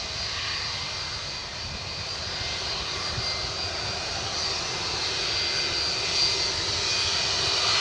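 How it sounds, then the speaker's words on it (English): Rolls-Royce powered FedEx Boeing 757 jet engines roar steadily and loudly nearby, a continuous broadband rumble with a high whine, holding constant throughout without voices. "757, the sounds of aviation being brought to you this morning, courtesy of FedEx."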